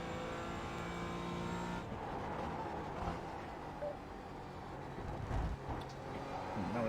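Porsche 718 Cayman GT4 race car in a racing video game, engine droning steadily throughout with brief tire squeal near the end and a voice talking over it.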